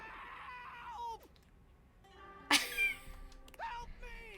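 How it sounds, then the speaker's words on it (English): Sink-headed character in the video game Date Everything giving distressed, wavering screams and wails in several bursts, close and clear, with voice-like cries. "your inspection is cut short by his disturbing screams"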